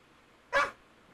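A single short dog bark from the video game Breath of Fire IV, one sharp burst in the middle of an otherwise quiet stretch, with no talk over it.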